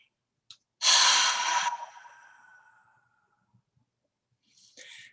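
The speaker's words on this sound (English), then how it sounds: "go ahead and just take a few big exhales" One long, deep exhale of breath, close and fairly loud, fading out over about two seconds, followed after a pause by quieter breathy sounds, heard in a guided breathing session.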